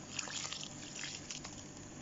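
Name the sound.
watering liquid into planting medium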